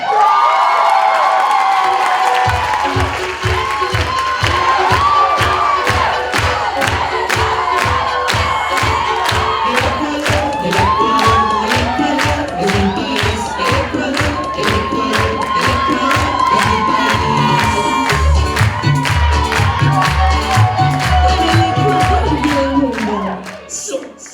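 A student crowd at a university pageant event cheers, whoops and shouts loudly for a club secretary, a sustained roar with rhythmic clapping and stomping and music underneath throughout.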